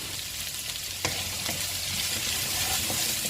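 Onions frying with salt in a pan for a Kerala-style beef curry, a steady close hiss of sizzling with a few soft stirring clicks, no voices.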